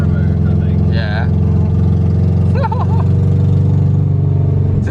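A rough, steady engine of a Subaru WRX GC8 with an exhaust leak idles with a loud, raspy rumble throughout, voices talking over it briefly.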